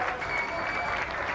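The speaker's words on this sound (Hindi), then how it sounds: "वहां पहुंचे दूसरे देशों के खिलाड़ियों ने भी प्रदर्शन कर रहे यूक्रेन के खिलाड़ियों का तालियां बजाकर समर्थन" Athletes from other countries clap in support of Ukrainian players at a protest, a steady wash of applause from a crowd that holds even for a brief moment.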